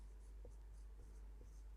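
Faint, soft scratches of a formula being written on a board in a physics classroom, a few short strokes over a steady low hum with no talking.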